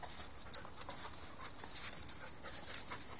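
Several dogs at an outdoor playdate, chasing a puppy and panting softly at a distance, with a faint yelp or scuffle partway through and no talking.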